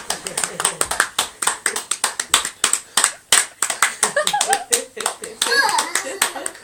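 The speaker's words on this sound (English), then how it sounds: "They carry on clapping." Quick, uneven clapping from a small audience at a Christmas play keeps going steadily through a curtain call, with children's voices chattering over it.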